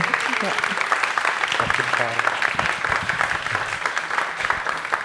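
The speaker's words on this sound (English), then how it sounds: "if we can have a big round of applause to Dr. Yuttapong Saengsomboon" An audience applauds a speaker at a music showcase event, with steady dense clapping throughout, sustained and fairly loud, and voices murmuring underneath.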